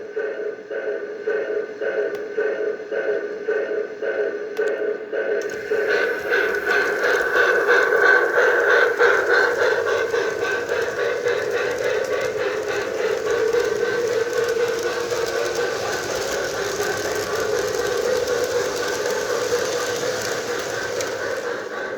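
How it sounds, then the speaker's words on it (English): O gauge model steam locomotive fitted with QSI Big Steam sound, running on a layout: steady rhythmic chuffing with a whistle-like tone, starting softer then louder and continuous near the microphone. "Locomotive that actually belonged to my father and has recently been converted to QSI Big Steam"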